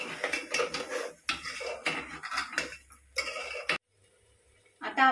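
Metal spoon scraping and clinking in a pan while sprouted moth bean usal is mixed, a run of irregular clatters and stirs with a short quiet pause before more scraping.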